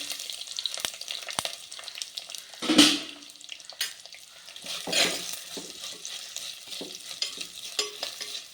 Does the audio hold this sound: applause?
no